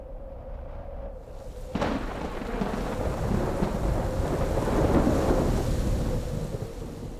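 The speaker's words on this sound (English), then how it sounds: "Well, that was quite the lightning show last night" A nighttime thunderstorm with steady rain pattering on surfaces and a sharp thunderclap that breaks in early, followed by a long rolling rumble that swells and fades beneath the constant downpour.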